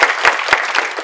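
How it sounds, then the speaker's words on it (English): A panel audience at an anniversary event gives brief, sharp applause, a few distinct claps over a bright wash of hand noise. "So I think that needs an applause."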